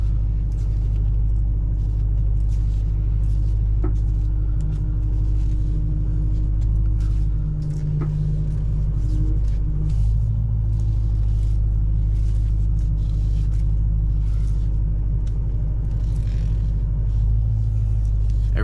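A 2005-2009 Ford Mustang GT idles steadily nearby, a deep continuous rumble with faint whines and creaks as the steering wheel is turned, no talking.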